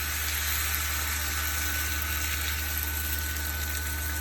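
Egg frittata mixture poured into a hot pan gives a steady, continuous sizzle and hiss with a constant hum underneath, unbroken and even throughout.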